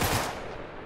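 Gunfire in the Uncharted video game, a single loud burst or blast that rings out and decays over under a second, with no talk over it.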